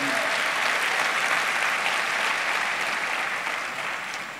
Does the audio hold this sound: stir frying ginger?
no